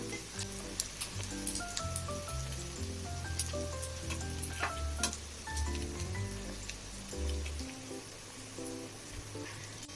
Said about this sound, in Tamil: இங்க பாருங்க ஃப்ரெண்ட்ஸ், சிக்கன் நல்லா ஃப்ரை ஆயிடுச்சு.